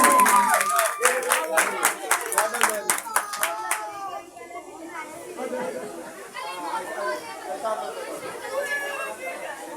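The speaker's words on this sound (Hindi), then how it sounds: "बेटी के लिए जोरदार तालियां।" Children at a school Independence Day program clap loudly in a quick, uneven burst for a girl, fading after a few seconds into chatter and crowd noise.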